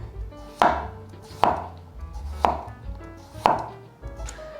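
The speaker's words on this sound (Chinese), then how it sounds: "马铃薯切薄片" A knife cuts through a peeled potato into thin slices, with four or five crisp, evenly spaced chops striking a board, close and fairly loud with no talk.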